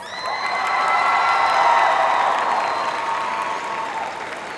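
A large audience applauds at the 2012 Clarke Central High School graduation: a dense, sustained wash of clapping that swells and then holds steady, with faint cheers mixed in.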